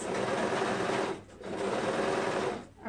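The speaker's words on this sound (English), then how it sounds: "I'm sewing with a 3/8 seam allowance" Sewing machine stitching a 3/8-inch seam on a color-blocked tunic, with a steady, close mechanical whir that runs in two long bursts, each easing off into a brief pause, and no voices.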